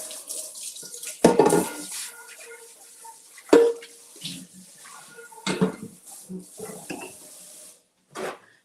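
Tap water runs into a kitchen sink as vegetables or dishes are rinsed after cooking spaghetti peperonata with zoodles, with intermittent splashing bursts and clatter close by at moderate loudness, and no talk over it.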